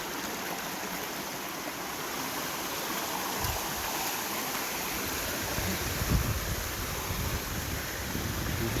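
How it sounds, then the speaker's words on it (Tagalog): The Upper Kawa Falls waterfall in Antipolo flows with a steady, broad rushing roar that fills the whole stretch evenly, with a faint low thump partway through and no voices. "Upper Kawa Falls."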